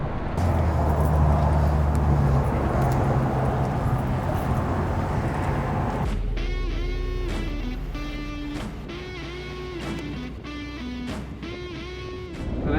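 A 2025 Ford F-550 Avalanche Black Edition truck driving, with a steady loud road and engine rumble that gives way to a quieter cabin hum where tonal, warbling background sounds rise over the drone.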